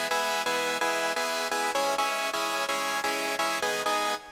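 Dry, unprocessed layered synth chords from a remix, played as rhythmic sustained stabs in a steady pulse, loud and harmonically rich, with no reverb or other effects.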